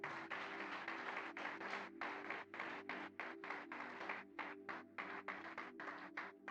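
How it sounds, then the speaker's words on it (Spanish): A church congregation claps steadily in a quick, even rhythm at a distance, the claps soft and faint over a sustained tone of music or keyboard. "Dale un fuerte aplauso a nuestro Dios."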